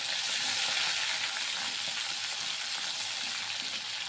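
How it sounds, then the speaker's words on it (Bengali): Spice paste with torn green chillies fries for a fish curry, hissing as a loud, dense, continuous sizzle close up, with faint stirring beneath. "এবার মশলাটা আমি ভালো করে কষিয়ে নিচ্ছি।"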